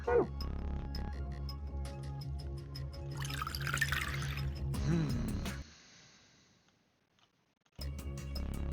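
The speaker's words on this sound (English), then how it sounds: "Oh, first we have to pour this shit out." Liquid poured out of a glass in the video game Virtue's Last Reward, a trickling splash over a steady low hum, fading to near silence before the hum returns.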